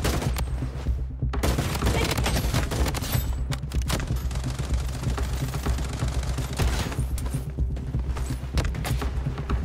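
Gunshots from the mobile video game BloodStrike ring out in a near-continuous barrage of rapid fire and scattered bangs over a heavy, constant game-sound bed.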